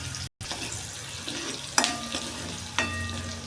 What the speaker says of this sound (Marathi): आपल्याला कांदा हा असा लालसर होईपर्यंत परतून घ्यायचा आहे